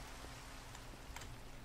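Rain in the Minecraft video game, a steady, even hiss of falling drops that carries on through the whole short stretch with no talking.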